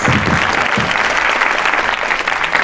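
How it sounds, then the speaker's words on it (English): Enthusiastic applause from an anniversary event crowd, dense and continuous clapping filling the whole stretch at close range. "please give them a big massive round of applause"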